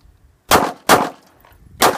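Three pistol shots fired at a target 5 yards away on an outdoor qualification range, three sharp loud cracks, the first two close together and the third after a short pause, with no talking.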